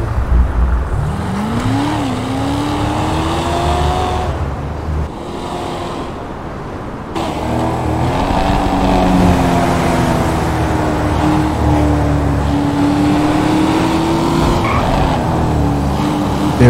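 Engine of a 2018 Lamborghini Aventador S Roadster in a racing video game: a loud, flat-toned motor rises and falls through the gears with brief cuts and tyre squeal, steady and up front.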